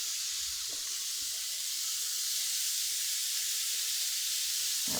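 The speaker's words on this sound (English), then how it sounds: "So add our shallots in here with a little pinch of salt and some pepper," Shallots cooking in a pan with a pinch of salt and some pepper give a steady, close sizzling hiss that runs unbroken for the whole stretch, with a few faint clinks at low level.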